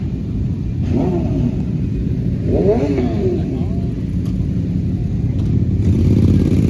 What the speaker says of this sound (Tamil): நம்ம ஊர் யமஹா பைக்.